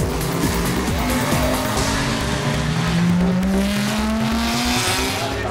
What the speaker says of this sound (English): The noise from the gearbox